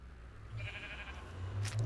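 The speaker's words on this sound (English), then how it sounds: "Hello, sheep." A Minecraft sheep bleats, a faint wavering baa in the middle of the moment, followed by soft background game noise.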